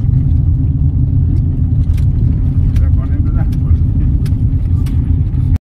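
A car engine rumbles steadily and loudly throughout while driving, with road noise and faint clicks on top; no speech stands out above the drone.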